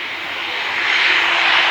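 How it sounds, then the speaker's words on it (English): A Norwegian Boeing 737 jet that has just landed at Arlanda roars steadily and loudly, its engine noise swelling slightly over a couple of seconds, with no talk. "This Norwegian 737 which had just landed was my first spot of the day."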